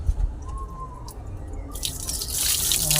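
Water being poured during an ice challenge, starting as light dripping and trickling, then swelling into a louder, hissing splash of pouring water toward the end.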